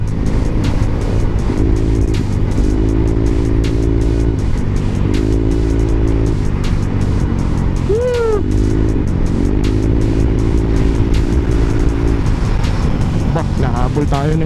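A motorcycle engine, a Yamaha Aerox 2021 scooter or Vogue 500 big bike, drones and revs close by while riding, with steady rising and falling tones throughout and loud wind noise; a person talks over it.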